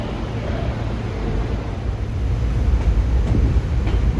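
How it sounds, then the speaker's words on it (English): Train 6596 bound for Lansdale rolls past with a steady low rumble of wheels on rail that swells slightly toward the end, mid-distance and continuous. "That's train 6596 for Lansdale."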